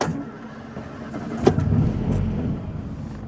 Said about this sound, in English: let's get the engine fired up